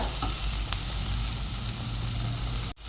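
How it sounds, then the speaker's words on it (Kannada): Onions fry with turmeric and salt in a pan for a fish sukka, giving a steady, close sizzle that runs unbroken for about three seconds before a brief dip at the end. "ಉಪ್ಪು ಸ್ವಲ್ಪ ಫ್ರೈ ಮಾಡ್ಕೊಳ್ಳುವ"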